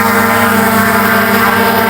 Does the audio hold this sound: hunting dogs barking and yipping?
no